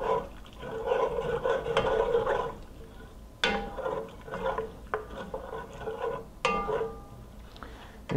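A spoon stirring razor clam chowder in a pot makes close, soft swishing and scraping strokes with a few sharp clinks against the pot's side.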